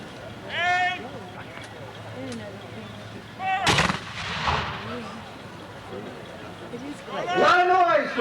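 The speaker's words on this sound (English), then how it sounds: "A lot of noise for little guns, huh?" Old guns fired during a reenactment drill at a fort, one loud sharp report booming midway, with people talking before and after.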